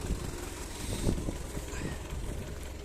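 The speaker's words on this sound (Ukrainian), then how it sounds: "великий дуже вітер" Strong wind buffeting the microphone in low rumbling gusts outdoors while soybeans are winnowed with a homemade winnower, steady and close, with no voices.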